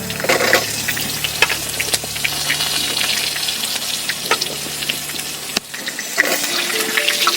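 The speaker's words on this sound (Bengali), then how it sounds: "এর কাটা আলুগুলো ভেজে নেব ওর মধ্যে।" Cut potatoes fry in hot mustard-seasoned oil left from frying fish, giving a steady close crackling sizzle with scattered pops and a few utensil clinks, and no voices.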